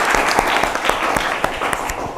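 Classroom students clapping together after a group presentation, a short burst of dense applause with some sharper individual claps standing out, steady in level throughout.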